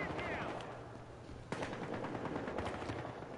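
Gunfire in the video game Battlefield Hardline, a sharp shot followed by a run of rapid automatic bursts at moderate volume, mixed with game ambience and a player's talk.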